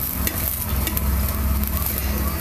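Paratha for a fasting meal roasting in oil on a hot pan, a steady close sizzle and crackle of frying with a low stirring rumble running throughout.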